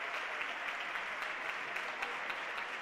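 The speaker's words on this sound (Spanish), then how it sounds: "El aplauso del pabellón de la granja" Arena crowd applauding at a futsal match in a sports pavilion, a dense, even wash of clapping that holds steady for about three seconds with no talk over it.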